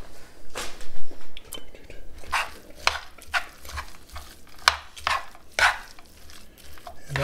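Pepper jack cheese being stirred into a creamy chicken filling for stuffed poblano peppers, with close, repeated scraping and sloshing strokes at an uneven rhythm and no talking.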